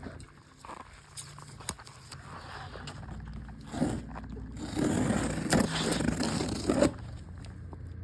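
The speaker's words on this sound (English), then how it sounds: "Gonna cut the box open." A cardboard shipping box holding a driveshaft for an all-wheel-drive Civic is cut open. Quiet scraping at first builds into louder rasping and tearing bursts of blade through cardboard in the second half.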